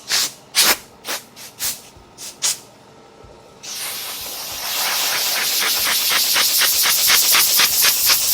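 An air compressor spray gun lays paint onto a Ford F150 ranch truck under restoration: several short hissing bursts, then a brief pause, then a long, loud continuous spray hiss that keeps going to the end.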